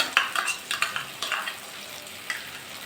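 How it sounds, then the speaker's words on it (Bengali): Green chili paste is stirred into frying masala for a shrimp and pointed gourd curry, with a quick run of spatula scrapes over a soft sizzle that thins out toward the end. "দিয়ে ভালো করে নাড়াচাড়া করে নেবো"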